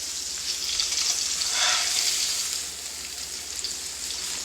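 Salmon sizzling in brown butter in a pan gives off a steady crackling hiss that swells briefly around the middle and then settles back to a continuous fry.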